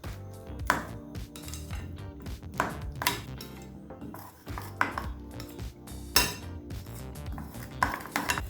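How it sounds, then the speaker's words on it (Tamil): A spoon mixing rava uttapam batter with curd and water in a bowl, giving repeated clinking and scraping knocks in an uneven rhythm, close and clear with no talking. "இப்போ இதை நல்லா மிக்ஸ் பண்ணிக்கலாங்க."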